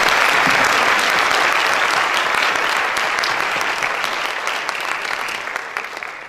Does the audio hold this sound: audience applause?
yes